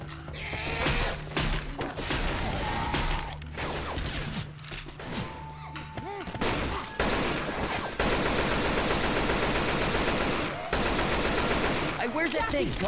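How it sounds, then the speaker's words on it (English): Gunfire from an AK rifle in the zombie shooter Left 4 Dead 2, heard as long dense bursts of rapid shots, loud and close, with brief gaps and a distorted in-game voice cry near the end. "Switch to the AK."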